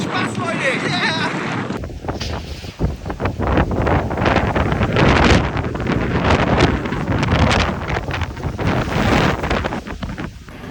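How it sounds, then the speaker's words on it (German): Typhoon wind gusts roar through a Taipei street, battering the microphone with a loud, continuous rushing howl that swells and buffets unevenly throughout, with a person speaking beneath the wind noise. "Ich muss sagen, da gehen wirklich teilweise Böen durch."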